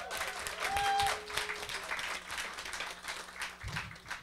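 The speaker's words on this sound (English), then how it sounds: "Let's give a big applause for Kundiman." Audience applause at a Filipinx food book event honoring a writers' organization, a steady wash of many hands clapping through the room, with a faint tone and brief murmurs underneath.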